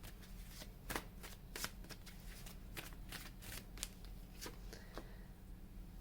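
Tarot cards being shuffled by hand in a quiet room, a steady run of soft papery riffles broken by sharper snaps and flicks, close and fairly faint with a low hum underneath.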